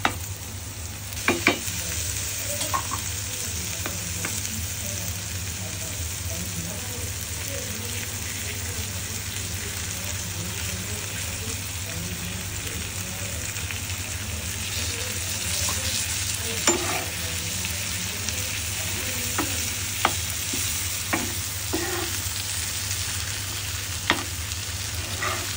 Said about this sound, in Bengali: পেঁয়াজগুলো একদম ভাজা ভাজা করে ফেলবেন আর মাছটা ভাজবেন